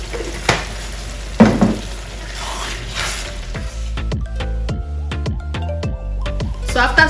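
A spoon stirs spicy Nigerian peppered kpomo stew in a pot, with sizzling and frying under scraping, then a run of sharp metallic taps and clinks against the pot.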